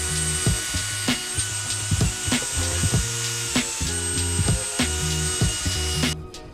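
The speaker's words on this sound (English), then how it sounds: "I've got my drill with the little pad on the end" Hand drill with a small buffing pad working on a part from a wrecked Kawasaki ZX12R, a steady high whine with stuttering lower rubbing pulses as the pad presses and lifts, close and continuous until it stops near the end.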